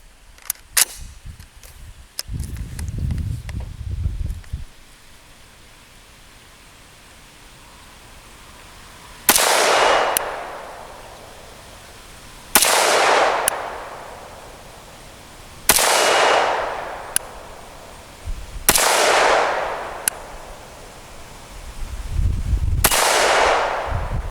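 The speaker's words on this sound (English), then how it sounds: "So let's load up and do a little shooting." Rifle shots fired over a Magneto Speed chronograph ring out as five loud, sharp cracks at steady intervals, each trailing a brief decay, with quieter handling noise and low rumbles between.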